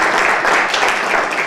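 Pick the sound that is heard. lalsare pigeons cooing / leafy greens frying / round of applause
round of applause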